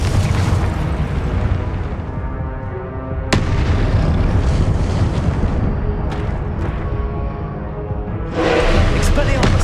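Confringo fire spell blasts in Hogwarts Legacy, several sharp booming bursts with rumbling tails, one striking hard near the middle and a louder flare at the end, over a steady bed of game noise.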